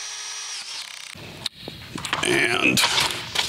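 A power drill winds down after boring at a dimple mark on a Jeep Wrangler JL trim panel, then knocks and clatter follow as the panel is handled, with a voice speaking over it.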